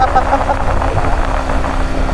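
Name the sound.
Yamaha R15 motorcycle engine straining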